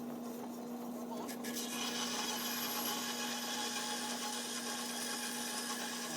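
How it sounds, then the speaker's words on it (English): A hand saw cuts off a small metal pin to about half an inch, a quiet steady rasping scrape with a faint constant tone underneath, close and unaccompanied. "Just going to saw this off about 1/2 inch long."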